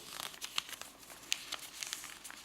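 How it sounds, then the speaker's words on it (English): Paper crinkles and rustles softly up close while it is folded into an origami owl, with quiet, irregular creases and small crisp snaps. "I fold all the edges to the center line."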